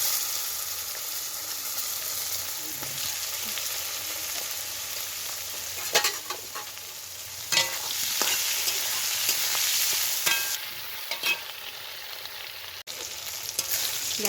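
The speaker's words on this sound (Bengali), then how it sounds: "ওই মাছের তেলেতেই বেগুনটাকে ভেজে নিচ্ছি" Eggplant frying in fish oil in a pan: a steady, close sizzle that runs throughout, with a few sharp clinks and scrapes of stirring.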